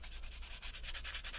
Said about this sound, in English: you can see that I'm sanding this off